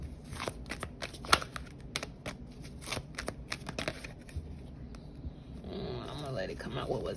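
Oracle cards shuffled by hand, quick papery riffles and flicks close by, with a voice talking over them, then a softer continuous rustle at the end.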